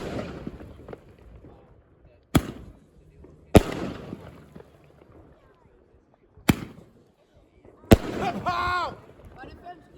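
Fireworks go off as several sharp, loud bangs spaced a second or more apart, with a whistling, crackling trail after the last one and people talking between the blasts.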